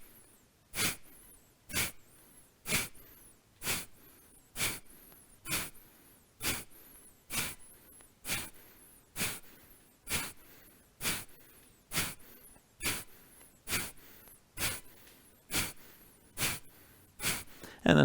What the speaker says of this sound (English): try to let out a little bit of an exhale